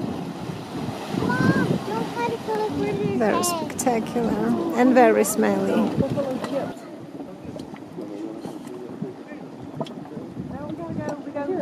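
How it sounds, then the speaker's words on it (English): The Grizzly Fumarole steam vent at Mud Volcano, Yellowstone, gives a continuous rushing, breathing roar with surging water, under wind buffeting and a person talking over the first half. "These are called the grizzly fumarole. And the noise is very satisfying."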